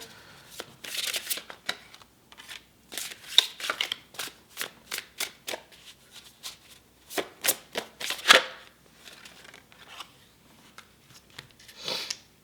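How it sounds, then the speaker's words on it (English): Tarot cards being shuffled and pulled during a pick-a-card reading, a close run of rhythmic riffling bursts with pauses, crisp and fairly loud, with no talking. "And then I will pull two more cards here."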